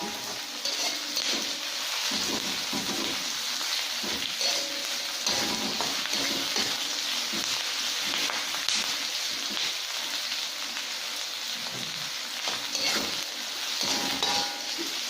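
Onions sautéing in a pan for crispy shrimp in sweet and sour sauce, a steady broadband sizzle with frequent scraping stirs and light clinks of utensil on metal throughout, close and continuous with no talking.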